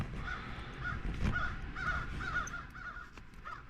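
Several crows caw repeatedly at a cold morning campsite, the calls coming in a loose rhythm from a moderate distance outdoors.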